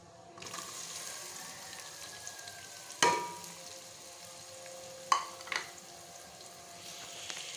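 Onions frying in oil in a pan for green masala beef keema, a steady low sizzle close by with a couple of sharp clinks and scrapes of a utensil.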